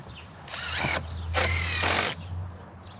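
A power drill drives screws into the outside corner of a wooden shed under construction, sounding in two loud, sustained whirring bursts close by, with a brief pause between them and a short tail at the end.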